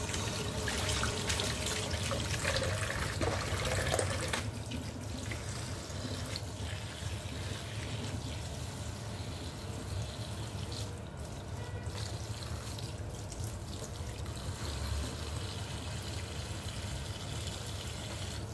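Water sloshes and trickles steadily as green leafy vegetables are soaked and washed to remove grit, a continuous close watery rush that eases slightly after a few seconds, with no talking.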